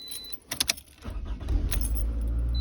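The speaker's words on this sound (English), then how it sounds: "Then you're actually going to start the vehicle." Keys jingle briefly before a 2012 Toyota RAV4 engine cranks and catches, settling into a steady low idle, heard close and alone.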